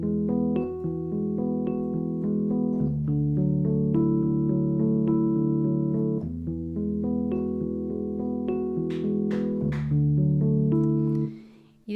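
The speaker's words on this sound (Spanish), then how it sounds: "toco los mismos acordes, pero arpegiándolos, o sea, una nota por vez." Arpeggiated chords with the notes played one at a time in a steady flowing pattern, warm sustained tones moving through several chord changes, heard alone and close.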